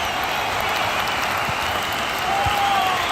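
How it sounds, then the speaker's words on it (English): A football stadium crowd at a Rangers versus Livingston match applauds steadily throughout, a dense wash of clapping with a few faint calls rising from the stands. "the crowd are reacting to this effort the players are putting in"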